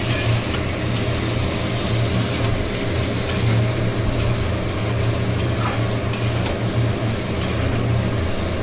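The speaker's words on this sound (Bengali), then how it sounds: "আলু পটলটাকে দিয়ে মশলার সঙ্গে কষাচ্ছি আমি" Potato and pointed gourd are stir-fried with spices in a pan for a prawn curry, making a continuous close sizzle with scraping stirs over a low, steady background rumble, with no talking.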